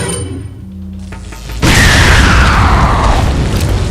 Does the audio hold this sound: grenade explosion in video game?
yes